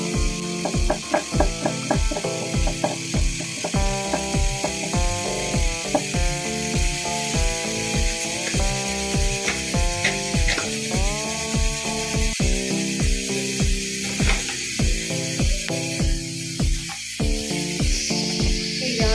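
A pressure cooker cooking dal with bottle gourd, letting off a loud, rapid, rattling hiss with irregular pulsing bursts and a steady spray of steam that carries on throughout.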